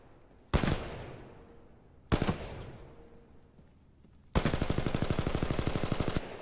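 Rapid-fire LMG gunfire in Titanfall 2: two short bursts followed by a longer sustained stream of fast, evenly spaced shots, loud and close, with no talk.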